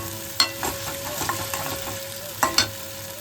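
Tomato with cumin, coriander, ginger and green chili paste fries in a pan, a steady close sizzle broken by a few sharp scrapes and knocks of a spoon stirring, no talk.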